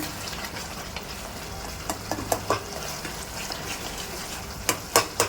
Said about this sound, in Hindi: ये माशाल्लाह इसकी भुनाई हो गई है पालक की